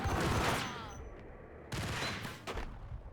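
Gunfire from the Max Payne video game, with bursts of shots and rattling volleys in two loud clusters separated by a brief lull, busy and close.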